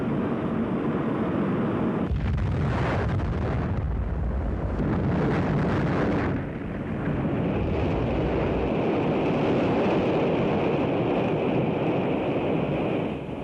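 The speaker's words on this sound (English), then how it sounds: "The immediate cause of the explosion is not known" A deep, rumbling blast as a Centaur rocket explodes after launch erupts into a long roaring, wind-buffeted wash of noise that keeps churning loudly before easing slightly.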